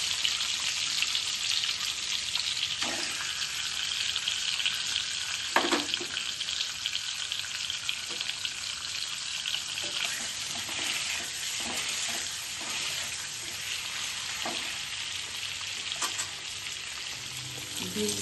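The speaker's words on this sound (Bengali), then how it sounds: "ডিমগুলো ভাজা হয়ে গেছে" Eggs fry in a pan for a capsicum egg curry, with a steady, even sizzle and soft crackle running throughout and a few faint knocks.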